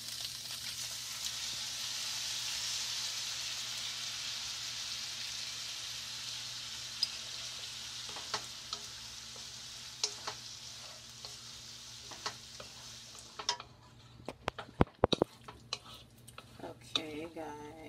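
Shrimp and broccoli sizzle in a pan as sauce goes in and gets stirred, a soft steady hiss that gives way to scattered utensil clicks and scraping near the end, with some talking.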